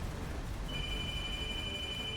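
A telephone rings in the video game Kingdom Hearts III, a faint steady electronic tone that starts partway through and holds over low game ambience.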